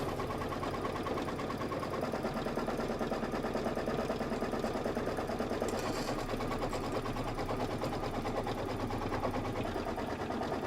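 A sewing machine runs steadily while stitching a Kimberbell Cuties 2 June table topper, its rapid even needle chatter continuous and close throughout with a slight low hum, no voices.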